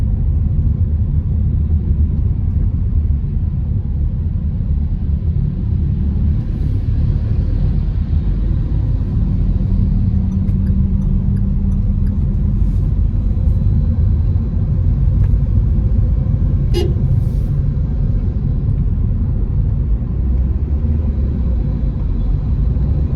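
Engine of a 2022 Toyota Veloz heard from inside the cabin, a steady low rumble with road noise that swells slightly as the car accelerates, continuous throughout with no talk.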